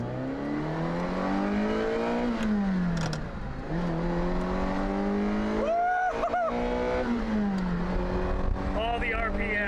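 A car engine revs repeatedly while driving, the pitch sweeping up and falling back with gear changes, close and loud and steady, with voices talking over it.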